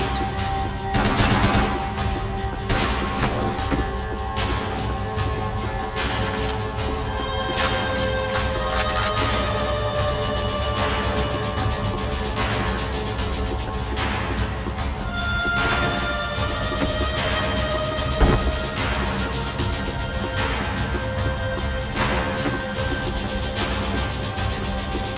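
Sustained automatic gunfire in the Max Payne 3 video game, bringing down loose ceiling tiles, a loud continuous barrage of rapid shots with crashing debris lasting throughout, no talk.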